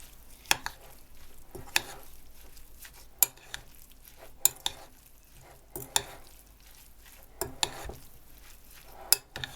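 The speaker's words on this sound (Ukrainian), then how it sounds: "Тепер це все перемішати." Eggplant salad being mixed in a bowl with a utensil after vinegar is added, giving repeated sharp knocks and scrapes at a roughly even pace amid quiet wet stirring, no talk.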